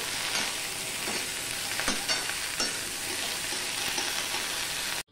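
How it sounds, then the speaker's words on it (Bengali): Okra (bhindi) sizzles loudly in hot oil in a pan, with scraping stir strokes breaking through the steady crackle, no voices present, before an abrupt cutoff. "ভেন্ডিগুলো যদি এইভাবে ভাজা যায় তাহলে কিন্তু আর নালচে ভাবটা থাকবে না।"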